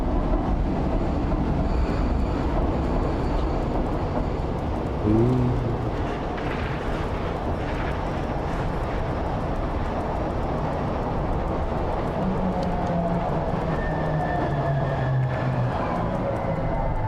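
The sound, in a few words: small subway train running, from video game Stray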